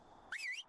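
A player's whistle command in ARK: Survival Evolved rings out once, a short bright swooping whistle rising then dipping, close and clean against near silence.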